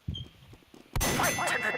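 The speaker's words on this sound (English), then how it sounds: "When the bell rings, you may begin." A boxing-style bell clangs loudly to start a fight in an England versus France match, a bright metallic strike that rings on and sustains for nearly a second after a stretch of quieter, thumping background noise.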